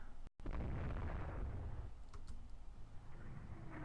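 Naval artillery in the Rule the Waves II game during a carrier battle: a heavy boom opens, then a sustained low rumble with scattered sharper cracks and bursts rolling on throughout.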